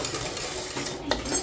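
Dishes are washed in a home kitchen in Pakistan, with steady running water and the clink of metal utensils and pots, including a brief sharper clatter near the end.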